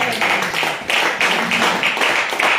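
Congregation at a women's conference session applauding in acclamation, with loud rhythmic group clapping in a steady pulse, roughly three claps per second, close and continuous.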